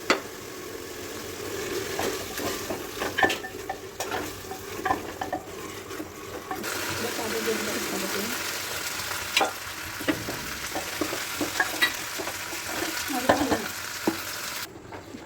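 Small beef pieces frying and being stirred in a pan, a steady loud sizzle with frequent scraping and clinking of the spoon throughout.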